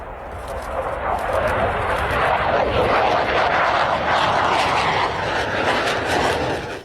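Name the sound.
fighter jet flying at air show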